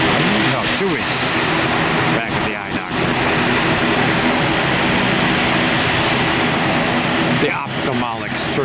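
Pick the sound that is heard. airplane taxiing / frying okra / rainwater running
airplane taxiing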